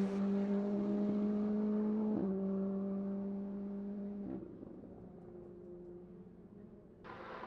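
Race cars lapping the Mid-Ohio circuit produce a steady engine drone with strong harmonic tones for about four seconds, shifting in pitch as a car passes, then fading to a quieter rumble before a brighter burst at the end.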